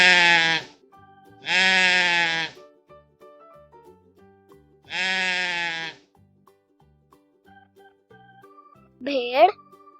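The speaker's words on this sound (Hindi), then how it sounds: "बकरी," A goat on a farm bleats three long, quavering times up close, with pauses between, then lets out one short, higher call at the end, alone with no talking.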